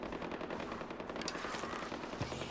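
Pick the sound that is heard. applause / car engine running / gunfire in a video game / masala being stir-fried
gunfire in a video game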